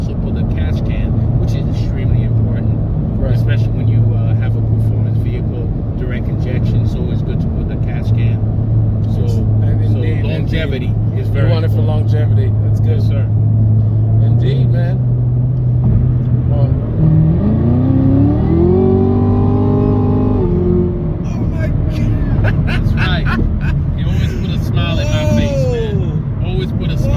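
A Chevrolet Camaro ZL1 performance car's engine rumbles loudly inside the cabin and revs up with rising pitch before settling back. People talk over it throughout.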